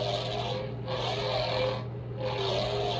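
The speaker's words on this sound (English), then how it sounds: "Because Maul's saber doesn't sound like this" Toy lightsaber sound font for a Savage Opress saber gives a low steady hum under rasping, crackling swells that surge in three waves, fairly faint and close, with no voices.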